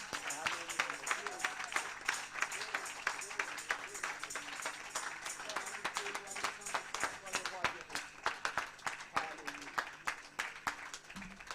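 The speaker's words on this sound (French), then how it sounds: "Nous allons maintenant applaudir pour ce bon Dieu" A church congregation claps together in a rapid, steady rhythm, the many hands blending into a continuous wash of applause with voices murmuring underneath, at moderate level throughout.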